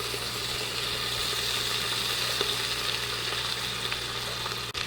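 Bacon frying in a pan with about two spoonfuls of olive oil, giving a steady, even sizzle that carries on without break at moderate volume.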